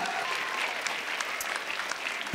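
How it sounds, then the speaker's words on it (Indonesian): Lively audience applause on the Indonesian TV talent show Don't Stop Me Now for contestant Guyat Geyot after the performance. It is a continuous, fairly soft wash of many hands with a few sharper claps standing out. "Kita berikan tepuk tangan yang paling meriah untuk Guyat Geot."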